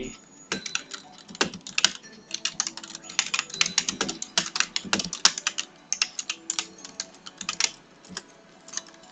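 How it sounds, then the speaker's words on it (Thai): Computer keyboard typing during a Pangya golf game session: rapid, irregular clicks and clacks of keys close by, continuing steadily throughout with no talking. "คือเสียงคีย์บอร์ดอาจจะดังนิดนึงแล้วก็อย่าเพิ่งรำคาญกันเนาะ"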